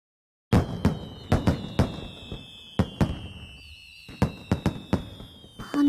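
Video game fireworks from World End Syndrome bang and crackle at irregular intervals, some sharp and loud, with whistling trails rising between the bursts.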